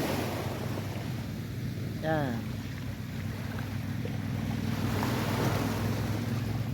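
Sea waves wash steadily onto a seaside shore, a continuous broad rushing roar mixed with wind buffeting the microphone, while a person speaks briefly over it.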